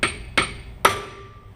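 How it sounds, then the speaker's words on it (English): Three sharp metallic hammer strikes on an impact screwdriver during a Hyundai Sonata brake job, evenly spaced and close, each ringing briefly before fading. "Put the screwdriver in there, turn it, and hit it with a hammer."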